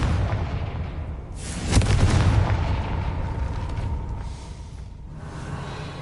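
Confringo fire spell blast in the Hogwarts Legacy video game: a single booming burst that swells and then fades into a rumbling tail, fairly loud with no talk.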